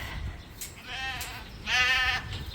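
Sheep bleat in a field on a farm, with two wavering calls, the second louder and closer, over faint outdoor background noise.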